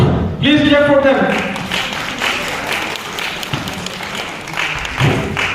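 An audience at a college freshers meet in Haflong claps in a broad, continuous patter that runs through the whole stretch, while someone speaks over a microphone at the start.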